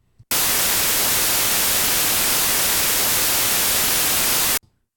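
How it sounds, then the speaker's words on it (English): A white noise test signal switches on abruptly, holds as a loud, flat, steady hiss for about four seconds, then cuts off sharply, with near silence before and after. "With white noise, this is a signal that has the probability or the possibility of having equal amplitude across all frequencies"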